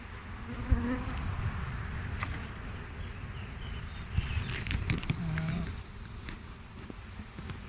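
Many bees buzzing continuously in a busy, layered drone, with occasional soft knocks and clicks nearby.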